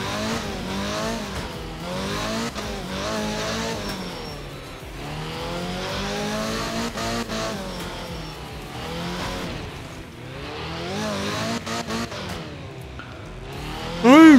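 Rally car engine in the racing game Art of Rally, driven on a wet German stage with a 1920s-era car, revving loudly and continuously with rising and falling pitch through gear changes, a sharp tire squeal at the end.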